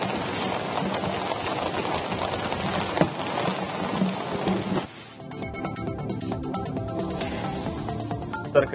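Heavy rain in Udupi district during a red alert, a dense, steady hiss of downpour close by, with a brief break and a shift in texture partway through, and no one speaking.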